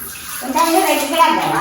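Water splashes and pours steadily onto a house roof on a hot sunny day in Jaffna, a continuous rushing wash that grows louder after a quieter start, with a voice faintly mixed in.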